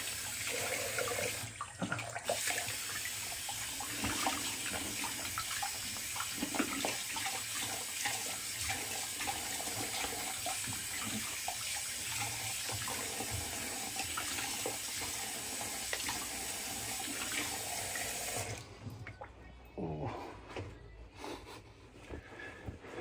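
A bathroom tap runs steadily while alum is rinsed from the face after a straight razor shave, with close splashing of water in the sink, then a brief break near the end before the flow resumes.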